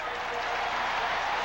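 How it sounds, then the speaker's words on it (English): A big football stadium crowd at the 1983 Dolphins at Saints NFL game, a short burst of steady cheering and applause. "This big crowd likes what they see"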